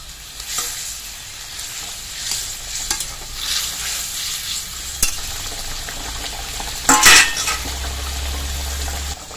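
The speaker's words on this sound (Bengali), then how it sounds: "দেখো বন্ধুরা, ঝোল ফুটে উঠেছে, এবার মাছগুলো দিয়ে দিব।" Pabda fish dropped into a pan of boiling Bengali jhal curry broth, with steady bubbling and stirring, a sharp splash-sizzle burst near the middle, then a low simmering hum.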